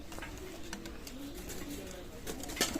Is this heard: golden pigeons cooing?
yes